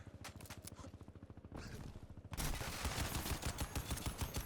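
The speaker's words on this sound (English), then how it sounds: "Give me that machine gun!" A machine gun in Crysis Remastered fires in rapid, evenly spaced bursts that sound fast and mechanical, growing louder and denser partway through.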